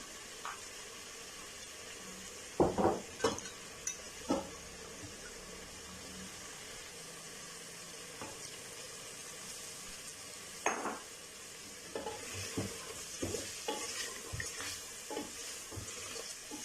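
Masala with yogurt for mutton rogan josh sautés in a pot: a soft, steady sizzle broken by scattered scrapes and clacks of a stirring spoon against the metal.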